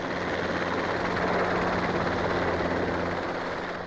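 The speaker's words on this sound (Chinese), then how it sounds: "最后再利用直升机把动物们赶向围栏的方向" A helicopter flying over African grassland while herding wild animals such as giraffes toward a fence, a steady broadband rotor drone with a low hum, constant and moderately distant, no voices.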